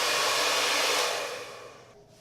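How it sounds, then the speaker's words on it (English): A hair dryer set to hot and high blows a steady, loud rush of air at close range, the roar holding constant before tapering off slightly at the end. "I'm actually going to blow it on hot and high"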